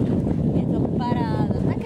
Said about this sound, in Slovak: lebo aj tu fúka vetrík